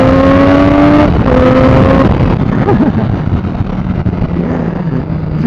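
A Triumph Street Triple R motorcycle fitted with a full Arrow exhaust and quickshifter revs hard through the gears, loud and close, its engine note climbing then shifting and droning on as it pulls away with wind noise.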